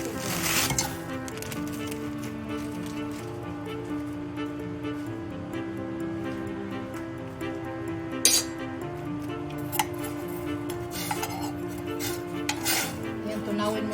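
Stirring brown sugar into vinegar and pineapple juice, with a spoon clinking and scraping against the pot in irregular taps, close and fairly quiet over a steady background hum.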